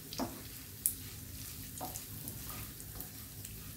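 Sweet basanti pulao of rice is stirred in a pan as it fries, giving a soft steady sizzle with a few sharp scraping clinks of the spatula, close and fairly quiet.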